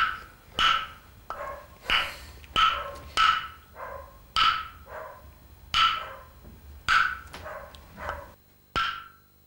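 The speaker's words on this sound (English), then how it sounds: "You can hear my dog outside." A dog barks outdoors in repeated sharp bursts, roughly one per second with short pauses, moderately loud and fairly close, with no talking over it.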